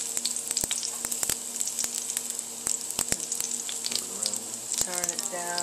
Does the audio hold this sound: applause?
no